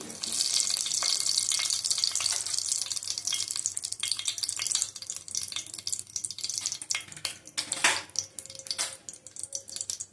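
Bay leaves sizzle in hot oil for chicken-stuffed potol dolma, a soft, fairly quiet crackle and hiss that rises and falls with occasional sharper pops.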